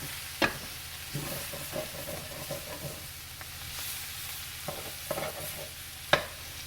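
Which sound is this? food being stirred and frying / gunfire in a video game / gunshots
food being stirred and frying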